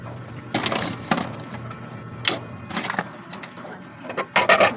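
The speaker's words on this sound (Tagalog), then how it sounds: "Nalaglagan ng gunting." Scissors clatter onto a hard surface in a few sharp metallic knocks amid the sounds of handwashing laundry outdoors in the rain, with faint voices in the background.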